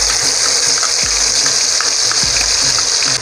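Mustard paste hits hot oil in a pan over a high flame, giving a loud, continuous, rushing sizzle that stays steady throughout with a few faint knocks underneath.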